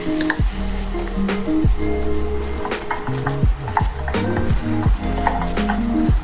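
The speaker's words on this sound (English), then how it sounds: "add the mashed potatoes and mix well." Mashed potatoes being stirred and fried in a pan for aloo paratha filling, with close, steady sizzling under repeated scraping spoon strokes and occasional soft knocks against the pan.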